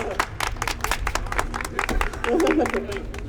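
Scattered hand claps from a small crowd, uneven and fairly close, with a voice briefly audible partway through.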